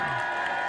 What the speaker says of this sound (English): lots of people cheering over there for the National